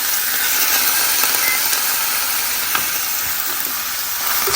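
Impossible Burger plant-based meat sizzles steadily in a pan in a home cottage kitchen, a constant close hiss with faint clicks of stirring and no voices.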